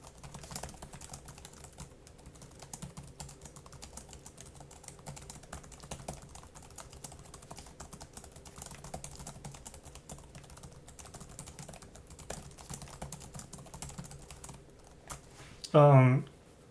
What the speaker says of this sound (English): X220's keyboard is definitely way louder